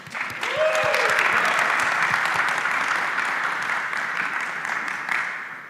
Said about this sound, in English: Come on, big applause.